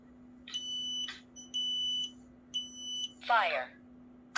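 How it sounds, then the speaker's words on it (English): A Kidde Trusense 2070-VASCR combination smoke and carbon monoxide alarm sounds three loud, piercing electronic beeps with its horn partly covered. A steady low hum runs underneath, and a voice follows the beeps. "This is gonna be one of the first tests of a, Kidde Trusense combo."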